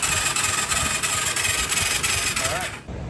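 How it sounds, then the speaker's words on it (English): A Yamaha YFZ450 quad engine cranks over with its spark plug removed and the throttle open, a loud, rhythmic, whirring churn that runs for a few seconds and then cuts off abruptly. "We're gonna crank the motor a couple times with the plug out and make sure that it ain't loaded up."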